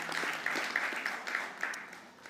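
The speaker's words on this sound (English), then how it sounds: "Ladies and gentlemen, a round of applause for our illustrious panel here today." Moderate applause from an audience at an elections panel discussion in Cape Town, a soft, even patter of clapping with a few sharper claps, steady and somewhat distant, fading slightly at the end.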